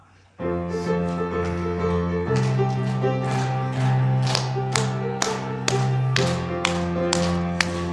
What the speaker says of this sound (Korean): 박수 치면서 한번 우리 찬송 한번 해보겠습니다